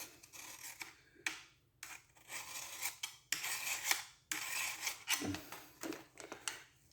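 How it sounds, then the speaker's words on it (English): A steel file rasping across a knife blade to raise a burr, in repeated rough strokes with short pauses between them, close and fairly loud. "from filing it this way"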